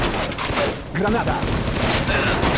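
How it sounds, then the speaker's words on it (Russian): A grenade explosion in the Vietnam War shooter Shellshock: Nam '67 booms amid a steady clatter of gunfire and battle noise, with someone speaking over the chaos. "Граната."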